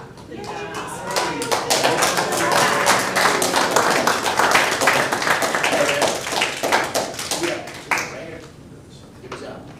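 A small meeting-room audience claps in a dense patter of hand claps lasting most of the stretch, close and fairly loud, with voices talking underneath before it thins out near the end.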